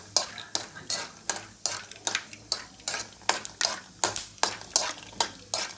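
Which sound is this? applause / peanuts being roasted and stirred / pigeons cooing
peanuts being roasted and stirred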